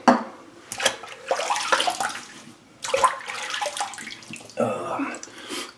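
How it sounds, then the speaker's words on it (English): Running water splashing from a tap as a face is wetted before a shave, a close, hissing stream that comes in bursts and pauses as hands move through it. "So, let me wet the face."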